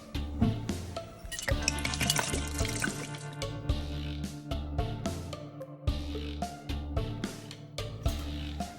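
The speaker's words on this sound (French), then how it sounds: "Je recouvre le tout de 6 litres d'eau." Close splashing and gurgling of water poured into a cast-iron pot over oxtail and marrow bones for Vietnamese pho, a continuous moderate pour broken by brief pauses and sloshes.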